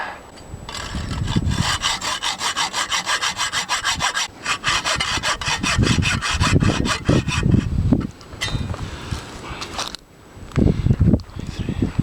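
A metal bolt on a large piece of junk is cut through with a hand saw, steady back-and-forth rasping strokes running close and loud, with a brief pause and a few final strokes.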